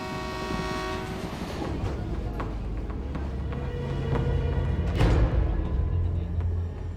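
A train at a railway station rumbles and clatters steadily, with a sustained horn blast early on and a sharp clank near the end, while voices talk underneath.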